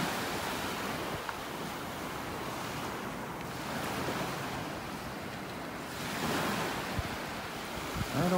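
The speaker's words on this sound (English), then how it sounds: "The waves breaking on the sandbar out there as the tide's slowly going out here" Waves breaking on a sandbar off a North Naples, Florida beach as the tide goes out, a broad continuous surf wash with soft swells and wind noise on the microphone.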